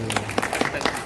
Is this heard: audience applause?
yes